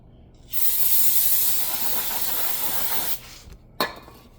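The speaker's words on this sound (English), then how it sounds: "Spray our brake pads too." A long, steady hiss of aerosol brake cleaner sprayed onto brake pads and slides of a 2018-2021 Chevrolet Equinox, lasting a few seconds, close and loud, followed by a short second burst.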